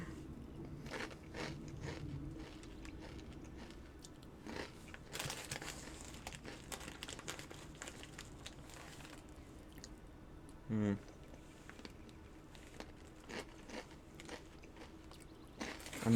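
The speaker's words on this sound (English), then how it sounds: "I'm enjoying snacks right now." Soft crunching and crinkling as someone munches snacks, with quiet bites and wrapper rustles scattered across a long stretch, faint and close behind low background sound.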